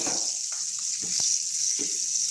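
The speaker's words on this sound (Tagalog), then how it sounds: "Alam niyo po kung ano po niluluto ko. Siyempre, pork chop." Pork chop sizzling in a frying pan, a steady broadband hiss of hot oil with a few brief pops and clatters breaking through, close and continuous with no talk.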